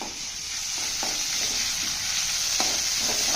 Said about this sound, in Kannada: ಆನಿಯನ್ಸ್ ಬ್ರೌನ್ ಆಗಿದೆ. ಈಗ 1 ಸ್ಪೂನ್ ಜಿಂಜರ್ ಗಾರ್ಲಿಕ್ ಪೇಸ್ಟ್ ಹಾಕೊಂಡಿದ್ದೀನಿ.